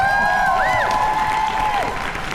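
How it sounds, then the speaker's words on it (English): A convention crowd applauds for Will Hockman at a fan panel event, a brief burst of clapping under a sustained tonal hum. "You guys put your hands together for Will Hockman back here in the back."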